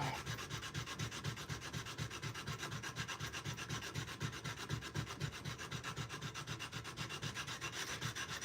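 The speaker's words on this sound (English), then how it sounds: "This is good sandpaper, but still, it's never fun to do it by hand." Steady back-and-forth hand sanding with good sandpaper on a tool handle during bevel grinding and handle shaping work; rhythmic rubbing strokes roughly twice a second, close and fairly quiet, continuing without pause and with no voices.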